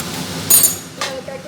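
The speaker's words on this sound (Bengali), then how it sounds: "একটু ঢাকা চাপা দিয়ে দিলাম।" A metal lid set onto a cooking pan of radish with lentil dumplings in a home kitchen: one bright clink, then a softer second knock a moment later, close and alone.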